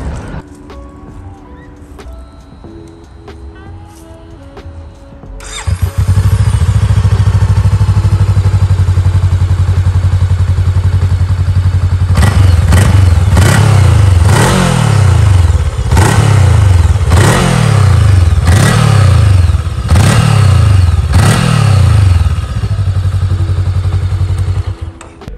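A 2022 Voge 500AC motorcycle idles steadily, then the engine note jumps louder and runs through a series of sharp rhythmic revs, about eight rising pulses in a row, close and loud before easing back down.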